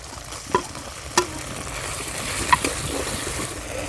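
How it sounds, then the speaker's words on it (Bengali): A spatula stirs chopped tomato into spice paste in a frying pan, a constant low sizzle broken by three sharp metallic clacks of utensil against pan, close and with no voices. "মশলার সঙ্গে ভালো করে টমেটোটা মিশিয়ে নেব"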